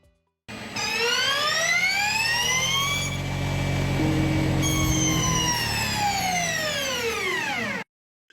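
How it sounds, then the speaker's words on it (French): Peugeot 9X8 hybrid race car in electric mode: a loud, high electric motor whine that sweeps up, dips, then climbs again across several seconds, heard alone and close with no talk. "ils nous ont quand même laissé le son de la 9X8. Tout d'abord, la version électrique."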